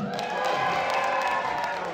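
A crowd cheering and whooping at a concert at the Casino de Paris, a steady wash of voices and shouts filling the hall, loud and continuous with no single voice standing out.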